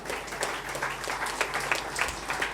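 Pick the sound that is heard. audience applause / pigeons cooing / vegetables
audience applause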